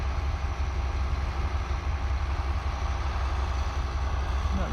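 Blue tractor running in a hay field: a steady, low droning engine hum at moderate distance, unbroken and even throughout.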